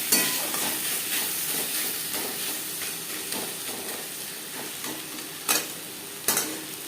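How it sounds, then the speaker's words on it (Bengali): Sliced tomatoes and onions stirred in a hot frying pan, a close crackling sizzle with repeated scraping strokes of the spatula and two sharper clatters near the end. "পেঁয়াজের সাথে টমেটো বেশ ভালো করে মিক্স করে দেবেন"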